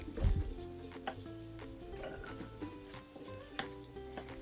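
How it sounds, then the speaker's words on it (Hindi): Cooked chicken with onion and capsicum is stirred in a pan, with a faint, quiet sizzle and soft scrapes and taps of the utensil against the pan. "जो ऑनियन और शिमला मिर्च है वो इसमें शामिल करके इसको मिलाएंगे"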